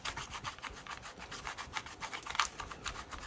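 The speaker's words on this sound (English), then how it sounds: "So clean off this plate a little bit from some of the old grime that's on here." Quiet, close scrubbing of old grime off a metal plate from a Castle Kraton BLX power plant, a brisk run of regular back-and-forth rubbing strokes with no talk.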